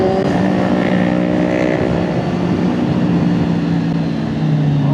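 A Kawasaki Z1000 and a Ninja 400 ride at night, their engines droning loudly and continuously with a rising, revving tone that holds throughout.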